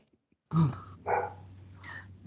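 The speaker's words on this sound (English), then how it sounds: "I'm assuming that there's not a dog in either Clyde & Co or 39 Essex Street, Mr. Kirkpatrick." A dog barks through someone's unmuted microphone during an online meeting, three or four separate barks in a short run, fairly close and clear against a quiet background.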